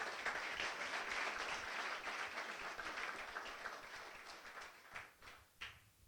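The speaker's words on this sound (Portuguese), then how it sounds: "Dá uma salva de palmas ao Senhor, porque Ele merece." Church congregation applause, sustained clapping that runs steadily and faintly, then thins to a few scattered claps before fading out.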